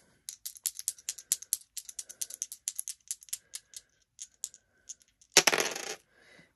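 Two dice rattle and clatter in a quick string of sharp taps on a hard surface, close and crisp, then end in a brief louder rolling burst, with no voices.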